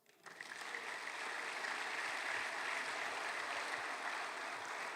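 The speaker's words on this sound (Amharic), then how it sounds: "እስቲ አጨብጭቡ።" Applause from a church congregation rises quickly and holds as a steady, far, even wash of many hands clapping, with no voices on top.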